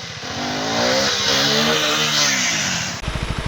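A KTM Adventure 390 motorcycle engine revs hard and strains close by on a steep slope where the bike is stuck, its pitch rising and falling, then settling into a rough, pulsing idle near the end.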